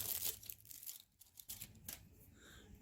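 Plastic wrapping torn off an oil filter (Mahle OC340 or ChampXL PH2840XL), a few quick close crinkling rips and rustles, faint and alone.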